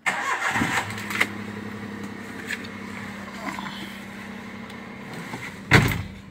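A used car's engine is started from inside the cabin, cranking briefly before settling into a steady mid-pitched idle that hums on, with a sharp clunk near the end.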